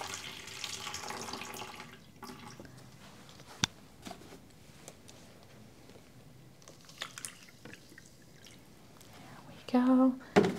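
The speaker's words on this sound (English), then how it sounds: "I'm wasting so much water" Tap water runs and splashes while enamel is rinsed under it, a soft irregular trickle with drips and clatters, ending in a louder burst of flow near the end.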